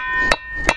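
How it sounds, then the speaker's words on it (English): A small cross peen hammer strikes a metal rivet on a workshop anvil twice, giving two sharp, ringing taps spaced under half a second apart while mending garden tools. "you use a little cross peen hammer like this to start spreading it out"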